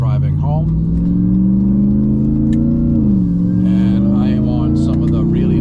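Dodge Ram TRX pickup truck with a Hellwig sway bar, cruising on back roads, its engine holding a steady, loud drone that dips briefly as it shifts, heard from inside the cab.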